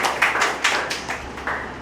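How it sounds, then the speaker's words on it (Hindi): Scattered hand clapping from a small audience honoring teachers at a school gathering, with several distinct sharp claps spaced irregularly over a couple of seconds, fairly close and unaccompanied by talk. "एक थोड़ा ताली हो जाए बहुत से"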